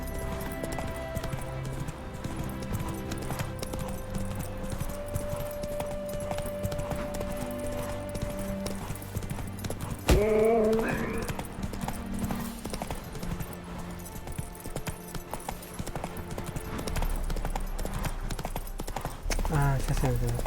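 Game horse hooves in The Witcher 3 clop steadily and evenly under a layered fantasy soundtrack, with a brief neigh-like tone midway and no talk.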